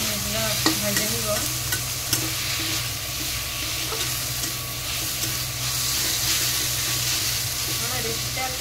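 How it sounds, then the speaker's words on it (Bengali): Ginger, garlic and green chilli paste frying in a pan, a loud steady sizzle with repeated close scraping stirring strokes throughout and no speech. "এখন ভালো করে আমি এগুলো ভেজে নিব"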